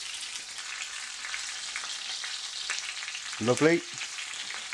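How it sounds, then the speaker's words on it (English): Whole baby onions fry in a pan for venison osso buco with a steady, close sizzle, briefly swelling near the end as they are stirred, while a voice says a word. "I'm just going to get a bit of colour on my baby onions"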